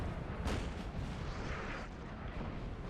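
Artillery fire in the Napoleonic battle game Total War 3, with a dull cannon boom and overlapping rumbling blasts under a constant distant battle din, moderately quiet.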